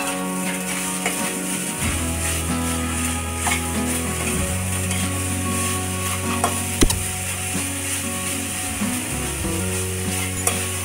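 A spoon scrapes and stirs jaggery and grated coconut in a hot pan, sizzling with repeated rhythmic strokes for the whole stretch, close and steady; no talking.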